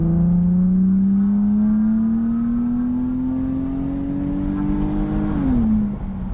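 An engine swapped into a Lexus GS300 revs loudly and steadily, pitch climbing slowly for about five seconds before dropping back toward idle, close and continuous with no talking.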